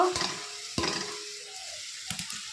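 Chopped taro flowers hit a hot kadai on a gas stove, giving a sizzling hiss and a few clattering stirs against the pan, loud and close.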